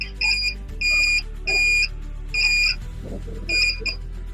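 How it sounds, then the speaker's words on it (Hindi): Electronic beeps sound during a check of a phone's SIM tray connection: five evenly spaced, clear, loud tones over a steady low hum. "बीप का साउंड कर गया मतलब सब अच्छे से कनेक्ट।"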